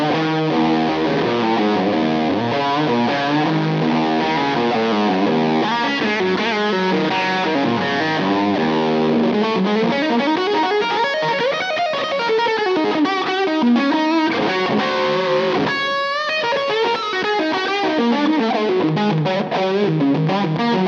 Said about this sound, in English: Let's now go for some fuzz tones,